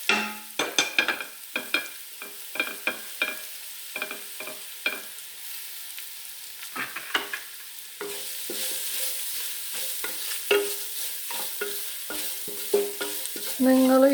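Grated coconut, cumin, green chili and garlic stirred into a frying pan, with repeated scraping spoon strokes over a soft sizzle that grows steadier toward the end.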